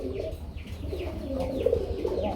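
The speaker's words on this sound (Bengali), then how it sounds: "খুব সুন্দর ডাকে বন্ধুরা। আমরা দেখতে পাচ্ছি এক জোড়া গুল্লা কবুতর" A pair of farm pigeons coo close by, with soft, throaty, repeated calls rolling steadily for a couple of seconds.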